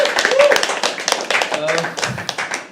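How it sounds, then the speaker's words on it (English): Audience clapping at a live poetry open mic, irregular claps near and loud, with voices and cheering mixed in over the applause. "A big round of applause for the great host, Harsh."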